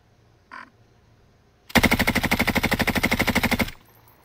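Rapid automatic gunfire in Call of Duty Modern Warfare, one loud sustained burst of about two seconds with evenly spaced shots, preceded by a brief faint blip.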